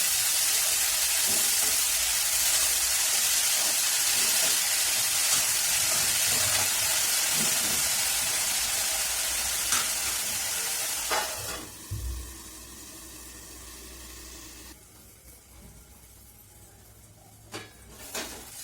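Fenugreek leaves (methi) stir-fried in a pan sizzle loudly and continuously for a while, then the hiss drops away to quiet, with scattered soft scrapes and knocks near the end.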